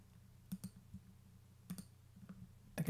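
Soft, close computer mouse clicks, a few isolated quick taps and a double click, over a faint low hum.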